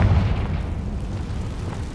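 A Confringo spell explosion in the Hogwarts Legacy video game: a loud, heavy boom hits at once, then a rumbling, crackling roar carries on steadily for about two seconds, alone.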